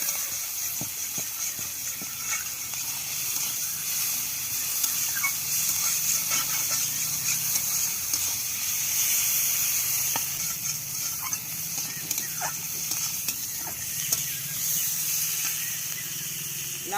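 Onions fry in a pan for a Bengali bottle gourd curry, a steady bright sizzle and hiss that carries on evenly throughout with faint scattered pops.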